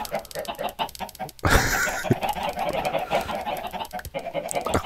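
Chickens in Minecraft cluck rapidly and overlap, many birds close by. A sudden loud burst of flapping or scuffling sounds early on, then the clucking carries on busily to the end. Nobody speaks.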